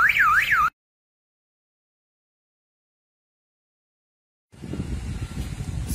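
Security camera alarm siren wailing in a rapid rising-and-falling electronic tone, cut off abruptly after a brief burst, followed by silence and then background noise.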